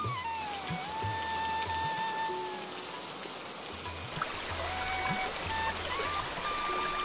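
Soft, continuous patter of light drizzle on surfaces, steady and fairly quiet, with faint tonal background sounds and no talking.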